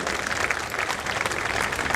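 Audience applause at the inaugural session of a cultural festival in Mumbai, a dense, steady wash of many hands clapping together for the full two seconds, loud and continuous with no voices over it.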